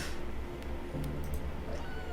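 A cat meows in the video game A Mortician's Tale, a few short close meows over a low steady background hum, with no talk.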